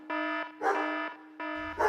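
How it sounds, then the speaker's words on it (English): Dogs barking loudly a few times between repeated electronic alarm bursts, the barks overlapping the alarm's rhythmic buzzing, close by with no voices. "or dogs awake from their Christmas slumbers and go crazy."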